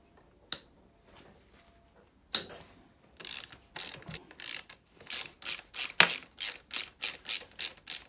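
A ratchet loosens the axle pinch bolts on a KTM Duke motorcycle: a few isolated clicks, then a steady run of sharp, evenly spaced ratcheting strokes, close and crisp, with no talking.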